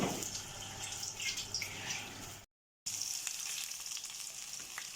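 Potatoes fry in hot oil in a pan with a dense, continuous crackling sizzle, briefly cut to silence midway before the bubbling resumes steadily; no voices.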